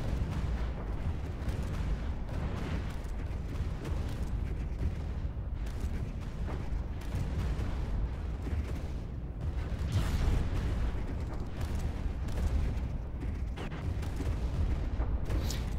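Space battle weapon fire in the video game Stellaris, a dense and continuous barrage of blasts and rumbling booms that swells slightly near the middle and carries on without pause, with no voices.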